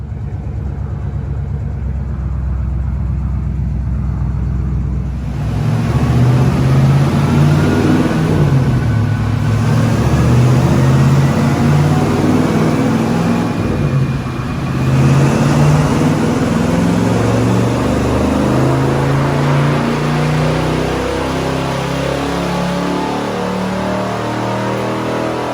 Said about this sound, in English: So let's slap it on the dyno and see what it makes.